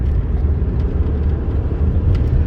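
Inside a Ford Focus 1.5 EcoBoost sedan at high speed in fourth gear, a loud, steady low engine drone blends with road rumble and wind roar, with no break throughout.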